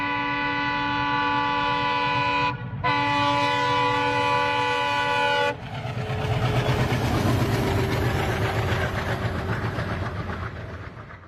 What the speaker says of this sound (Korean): 허공을 가르는 날카로운 비상기적 소리와 대지를 진동하는 새카만 음향이 내 바로 옆을